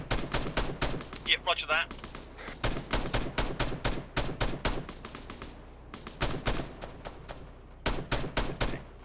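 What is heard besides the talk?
suppressive gunfire, from video game Arma 3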